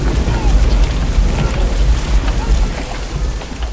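A spring storm, with steady heavy rain and a deep continuous thunder rumble, loud and unbroken throughout.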